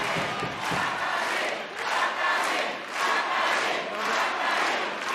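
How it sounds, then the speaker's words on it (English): Crowd roaring at a New Japan Pro-Wrestling match in the 2024 New Japan Cup tournament, a large arena audience cheering in swelling waves that rise and dip, loud and continuous. "These fans don't know what they're cheering about."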